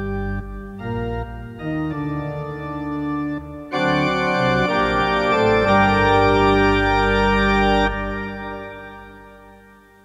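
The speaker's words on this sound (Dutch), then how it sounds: "Door gebruik te maken van de pedaalkoppels is het mogelijk een volle orgelklank te laten horen." Full Johannus church organ playing with the pedal couplers drawn, rich sustained chords over deep bass that swell louder partway through, hold steady, then fade away alone.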